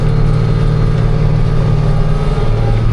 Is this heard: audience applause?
no